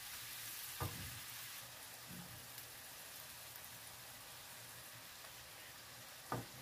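Rice sizzles quietly in a paella pan with prawns and white fish, a faint, even frying crackle with two brief knocks from a utensil against the pan.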